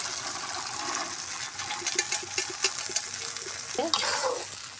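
Chickpea curry fries and sizzles in a pan while being stirred, a steady close hiss with scraping and clinking of the spoon, a brief splash or pour near the end.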